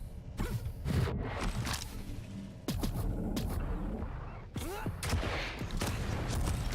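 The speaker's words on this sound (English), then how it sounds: "Luminus consistently trying to fight with just a super shotgun." Super shotgun blasts in a Quake 1on1 deathmatch, with repeated sharp booming shots at irregular intervals over weapon clanks, pickups and movement noise; no talk.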